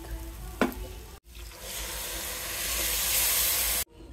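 Rice and lentils frying in a pan, a steady close sizzle and hiss with brief stirring scrapes, growing slightly louder before it abruptly stops.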